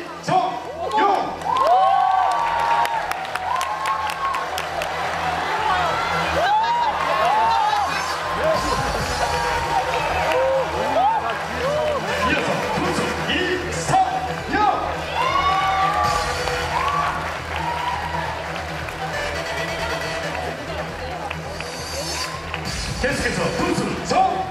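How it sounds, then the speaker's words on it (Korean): Crowd of baseball fans at an indoor fan event cheering, whooping and clapping as team players are introduced and walk on, a loud sustained roar with shouts rising over music and an announcer's voice. "한 선수 한 선수 소개 시에 팬 여러분들의 힘찬 박수를 부탁드립니다."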